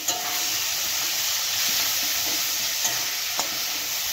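Spice paste frying in a pan for khichuri gives a loud, steady sizzling hiss, with a couple of faint scraping clicks as it is stirred.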